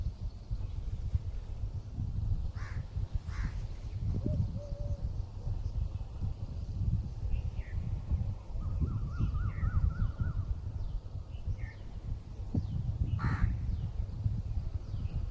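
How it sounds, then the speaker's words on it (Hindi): Crows caw in short, harsh bursts at moderate distance, scattered calls every few seconds over a low rumble of outdoor background noise. "पहले कौवा बोलता था तो कौवे को उड़ा दे"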